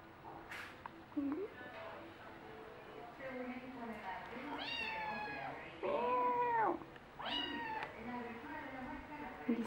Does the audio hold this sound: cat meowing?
yes